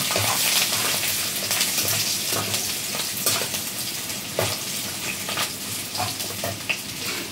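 Garlic sizzling in hot oil in a pan, a steady bright frying hiss with small crackles and occasional stirring scrapes, close and even, no talking.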